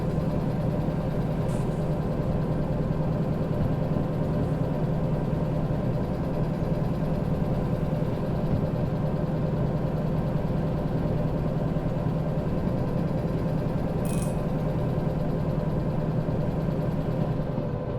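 A locomotive engine in the video game Derail Valley, overheating, runs with a steady low idling drone that stays even and loud throughout, with no talk.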